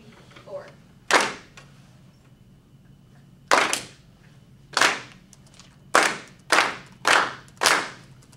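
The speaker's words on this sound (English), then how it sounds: "let's try to clap this first rhythm all together" A classroom of students claps a rhythm together in unison: seven sharp, fairly close claps in an uneven pattern, with short gaps between them and a longer pause near the start.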